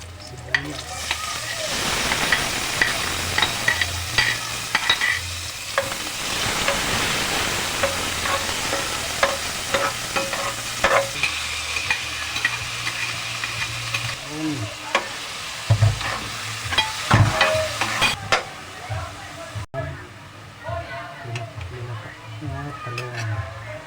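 Onions sautéing in a pan sizzle steadily and loudly, with frequent clinks and scrapes of stirring throughout while a person talks over the cooking.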